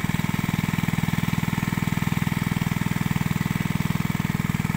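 An excavator digging a pond on a farm runs with a steady, loud diesel chug that keeps an even fast pulse throughout, close by and without talk.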